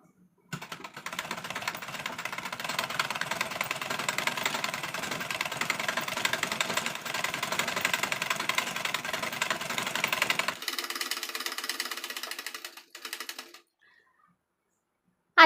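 A sewing machine runs a long stitch across fabric with a fast, steady mechanical chatter for about ten seconds. It then slows to a lighter whir and stops, with a sharp click at the very end.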